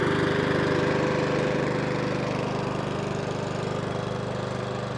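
A Mountfield HP41 lawnmower's small petrol engine runs steadily on automatic choke, a close, loud continuous drone with an even mechanical rattle throughout and no talking.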